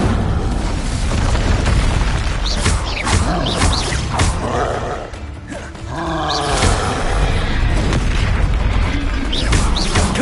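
Incendio and Confringo fire spells cast in Hogwarts Legacy, producing a loud run of booming blasts and whooshing flame bursts, with a brief dip midway before the explosive roar resumes, close and heavy.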